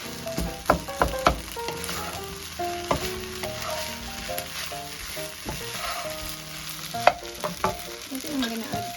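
Filipino style fried rice sizzles in a hot pan while being stirred, with repeated scraping and clanking of the utensil over a continuous frying hiss.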